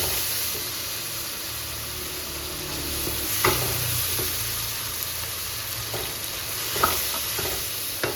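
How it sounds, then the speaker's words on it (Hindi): Steady sizzling of garlic ginger paste frying in a pan, with a few stirring scrapes and clinks over a constant hiss; no talking. "अब मैं इसमें डालूँगी ये लहसुन अदरक है तकरीबन 2 चम्मच"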